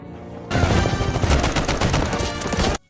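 Sustained, dense burst of loud gunfire with rapid overlapping shots lasting about two seconds, ending abruptly, with a faint tone running underneath.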